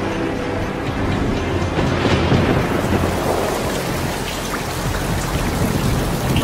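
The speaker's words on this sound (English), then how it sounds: "when condensation occurs on this planet, it rains methane" Steady, dense rainfall with low rumbling like a thunderstorm, standing in for methane rain falling on Saturn's moon Titan; a constant, loud wash of sound throughout with no voices.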